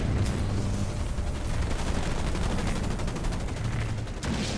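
Battle sounds from the real-time strategy game Halo Wars 2, including sniper fire, form a dense, continuous roar of gunfire and explosions, loud and steady throughout, with no voices.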